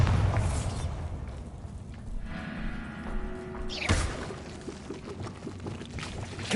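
A Bombarda spell in Hogwarts Legacy bursts with a sudden booming blast midway, following a rushing, pouring wash of magical noise and trailing off into a rumbling rattle.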